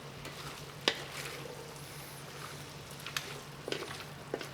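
Onions sauté in a pot for Cajun red beans and rice, a soft steady sizzle with a low hum beneath and a few clinks of a spoon.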